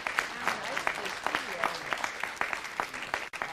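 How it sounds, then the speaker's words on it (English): Round of applause at a city council meeting honoring a fire chief and fire marshal, a modest roomful of clapping hands, fairly close and steady for a few seconds. "let's give them a round of applause as they come"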